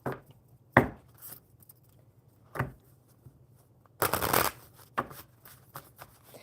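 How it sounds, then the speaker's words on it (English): Tarot cards being shuffled by hand during a live coffee-and-cards chat: a few sharp riffling bursts separated by pauses, with a longer, denser flurry near the middle, close and fairly quiet over a low steady hum. "So I'm going to shuffle the tarot cards."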